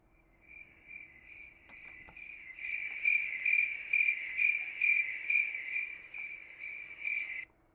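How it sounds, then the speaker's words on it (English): A cricket chirping sound effect played during a live hockey trade-deadline stream, with bright, rapid pulsing chirps that swell louder midway and continue steadily on their own. "So crickets."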